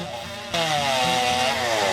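A dull chainsaw revs up loudly and bites into maple wood, its engine whining steadily and straining as it cuts, very close.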